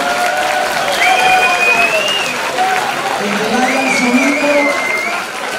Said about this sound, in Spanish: Aplauso fuerte para los compañeros de cuarto de ESO.